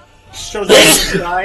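A single sharp human sneeze bursts out close and loud, with a short inhale before it, amid people talking around a tabletop game.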